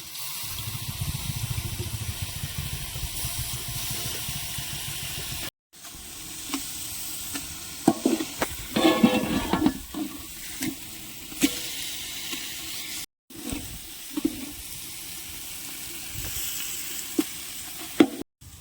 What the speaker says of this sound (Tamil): தயிர் ஊற்றிக்கிறோங்க